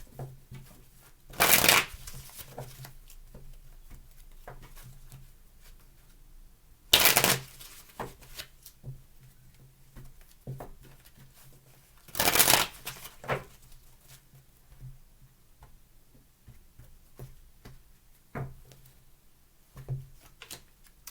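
Three quick bursts of tarot cards being shuffled, spaced several seconds apart, each loud and crisp against a quiet room with faint rustling between.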